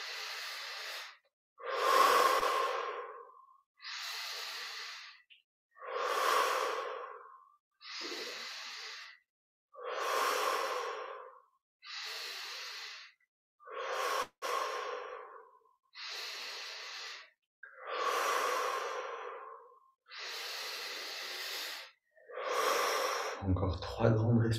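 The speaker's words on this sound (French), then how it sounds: "On va reprendre 10 respirations profondes" Slow, deep breaths during a guided Christmas meditation, about a dozen long hissing inhales and exhales evenly spaced with pauses between, close and clear.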